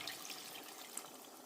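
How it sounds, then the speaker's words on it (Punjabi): Water pours steadily into a meat karahi pot during cooking, a continuous close splashing wash lasting a second and a half with no voices. "ਇਹ ਸਾਰੀਆਂ ਚੀਜ਼ਾਂ ਐਡ ਕਰ ਲੈਣ ਤੋਂ ਬਾਅਦ ਇਸ 'ਚ ਪਾ ਦੇਣਾ ਪਾਣੀ"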